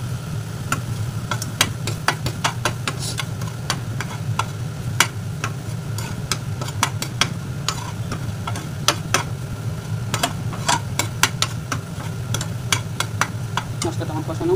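Masala with grated tomato sizzles steadily in a pan for a raw banana curry, with frequent sharp spoon scrapes and taps against the pan throughout.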